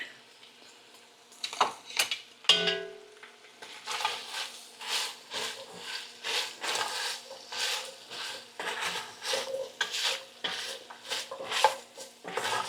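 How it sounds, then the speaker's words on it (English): Chopped carrots, celery, onion and parsley cooking in a pot for German beef rouladen, heard as a run of repeated scraping, stirring strokes against the pan after a few clinks, close and rhythmic, with no talk. "Okay, so our carrots, celery, onions, parsley going in, and we'll let that start to work"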